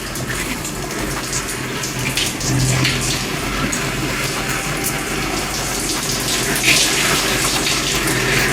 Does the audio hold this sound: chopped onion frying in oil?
no